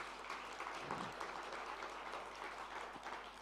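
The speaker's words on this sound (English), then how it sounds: "Yes, you can clap your hands." Audience at an awards ceremony applauding, a dense steady wash of many hands clapping throughout with no gaps, moderately loud and filling the room.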